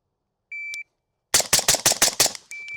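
A rifle fitted with a flow-through suppressor fires a rapid string of about six shots, sharp cracks in quick succession, close and loud, preceded and followed by a shot-timer beep.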